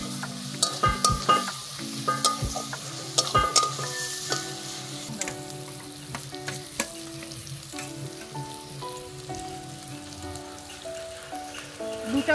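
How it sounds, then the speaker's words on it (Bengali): Onion and garlic paste fries and gets stirred in a pan, a soft, steady sizzle with frequent clinks and scrapes of a spoon against metal, and no speech. "পেঁয়াজ আর রসুনটা ভালো করে কষে নিতে হবে।"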